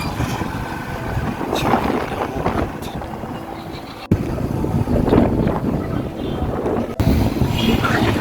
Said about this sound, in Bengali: ভালো লাগতেছে বিকেলের বাতাসটা